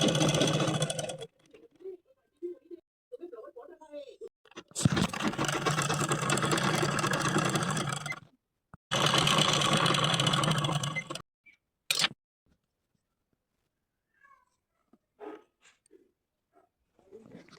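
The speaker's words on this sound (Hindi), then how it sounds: "इसी प्रकार से हम येलो वाले पेटीकोट की सिलाई कर लेते हैं" Electric sewing machine stitching a yellow petticoat, running in two strong sustained bursts of motor hum separated by a short stop, with quiet handling noises before and after.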